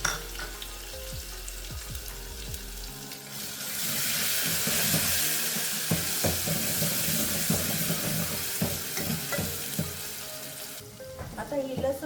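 Cumin and mustard seeds with a little fenugreek crackle in hot oil for Maharashtrian amti patodi, a dense close frying hiss with scattered sharp pops that grows louder partway through.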